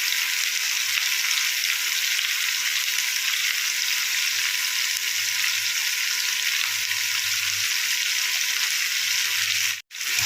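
Turmeric, salt and green chillies frying in a pan sizzle in a steady, dense hiss that stays loud and close, briefly cutting out near the end.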